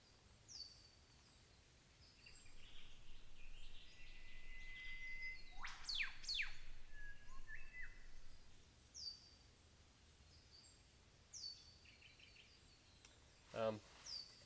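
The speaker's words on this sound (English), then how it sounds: "Every now and then there's a whipbird, just echoes through the river." A whipbird's call with a sharp rising whip-like crack rings out once amid quieter chirps and insect hum, echoing over a river in the Noosa Everglades.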